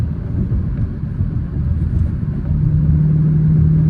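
A Ford Mustang GT cruising city streets late at night, its engine giving a deep, steady low rumble from inside the car that swells slightly toward the end as if easing onto the throttle.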